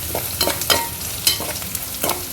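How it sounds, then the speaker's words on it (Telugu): A salted greens curry of mixed leafy greens, spinach, fenugreek and coriander fries in a pan while a spoon stirs it, producing a low sizzle with several distinct scraping strokes spaced about half a second apart; no talking. "సాల్ట్ వేసుకొని మళ్ళీ ఒకసారి కలుపుకోవాలి"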